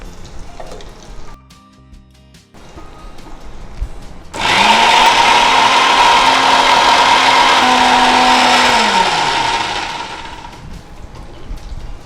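A kitchen mixer grinder whirs into a loud, steady grind of tomato and curry leaves for about five seconds, then winds down, with quieter kitchen noise before it starts.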